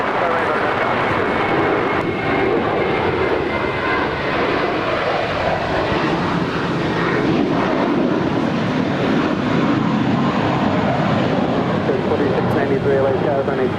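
An airliner takes off from runway 25 Right at Los Angeles International Airport with a sustained, loud roar of jet engines that stays steady for the whole stretch. Radio chatter from the tower can be heard alongside it.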